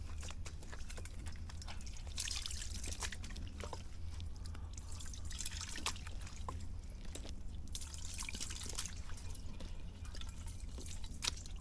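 Copper fungicide liquid drips off a freshly cut ladyfinger banana plant sucker, giving irregular small ticks and patters over a steady low background hum, with no talking.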